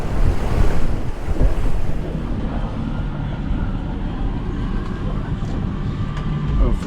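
Strong wind buffets the microphone while waves and surf rush steadily around a sailboat at sea, on a bluewater passage from St Thomas to Bermuda in big weather; loud and continuous, with no talk.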